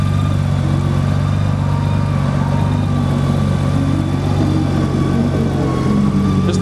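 A 2008 Honda Goldwing 1800 motorcycle idles steadily with an exhaust slightly louder than stock, a continuous, smooth, close-up engine hum with no revving and no voices.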